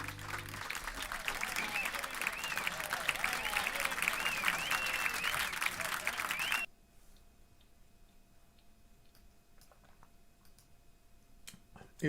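An audience applauds at a live jazz performance, steady clapping for about six seconds that cuts off abruptly, leaving a quiet room with scattered small clicks.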